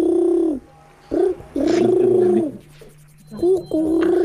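Turtle doves coo at night in Renan, Switzerland, giving several low, rolling purring calls in separate bursts with short pauses between them, close and clear.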